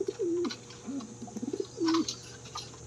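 Racing pigeons coo nearby in soft, low, rolling calls, three or four warbling phrases across a few seconds over a faint steady background hum.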